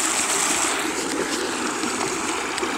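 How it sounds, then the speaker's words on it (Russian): Water rushes steadily from a rural village water supply, a continuous broadband hiss and splash that stays close and even for the whole stretch with no voices. "вода пошла."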